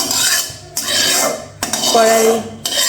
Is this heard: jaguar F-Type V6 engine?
no